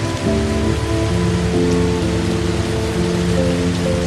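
Steady, dense midnight rain pours over a Costa Rican rainforest treehouse, a loud continuous hiss of drops on leaves and surfaces with faint sustained tones beneath and no voices.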